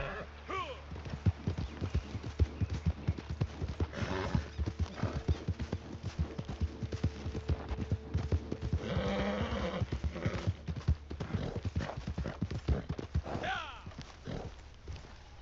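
Rapid horse hooves clip-clop continuously in Red Dead Online, with a horse whinnying now and then, game-like effects layered over a steady background.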